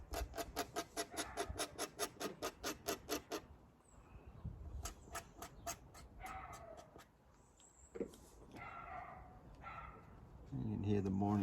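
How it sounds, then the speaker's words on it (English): Dogs yap in the morning near a garden in a quick repeated string of sharp barks, then scattered yips and whimpers follow, fairly loud, with a voice talking briefly near the end. "You can hear the morning dogs yapping in the background."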